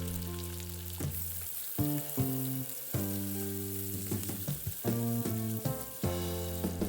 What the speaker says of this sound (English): Then add the whites of the scallions and white onion.